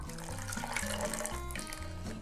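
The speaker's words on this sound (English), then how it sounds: "Now we add the warm water" Warm water poured into a test tube during a home snow-making science experiment for kids, a steady splashing pour with a low rhythmic hum beneath it, continuous and fairly close.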